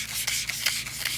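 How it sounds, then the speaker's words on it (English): Sandpaper scuffing a tire sidewall where the raised lettering has been ground off, before fitting permanent letter stickers; steady close-up rasping strokes in a quick repeating rhythm, with no talking. "we're just scuffing the surface"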